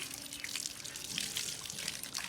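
Water splashes and trickles over a goat's face during a washing, a soft, uneven wet spatter lasting a couple of seconds, with no talking.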